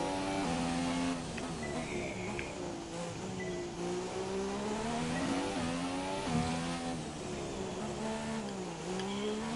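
A Formula 1 car in F1 2017 on a practice pit-entry run, its high-revving engine whining steadily and climbing through gear changes, loud and continuous with no talk.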